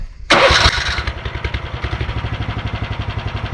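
A farm engine, apparently one that needs its choke while cold, coughs into life with a sharp, loud burst and then settles into a steady, rapid, chugging idle, close and alone.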